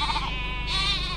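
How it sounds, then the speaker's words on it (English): Sheep bleat on a road, a steady wavering bleat filling the short clip, close and fairly loud with a second call rising partway through. "The sheep are in the road."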